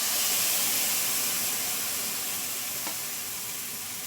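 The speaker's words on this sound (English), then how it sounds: "Just give that a good stir and mix with the spices together." Tomatoes and spices hiss and sizzle in a hot pan for chicken tikka masala, a dense, steady, close frying wash that slowly eases off, with a faint knock of stirring near the end.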